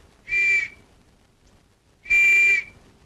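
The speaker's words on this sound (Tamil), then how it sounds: "அப்புறம் ஏன் விசில் ஊதுற?" Two sharp, shrill blasts from a whistle, each about half a second long, separated by a short pause, loud and clear against near silence.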